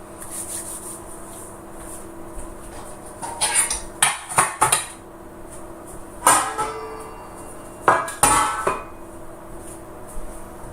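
Cake pans and other kitchenware clatter and clank as someone rummages through them, with bursts of metallic knocking and scraping in several close, loud clusters separated by quieter pauses.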